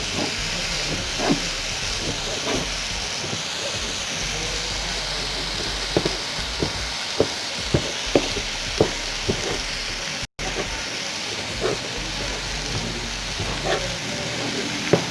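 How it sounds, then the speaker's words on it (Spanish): Steady sizzling hiss of diced pork frying in hot oil, with scattered sharp pops and crackles over a constant bubbling background. "vamos a ir picando lo que es la carne de cerdo"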